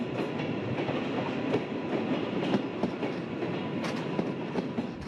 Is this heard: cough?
no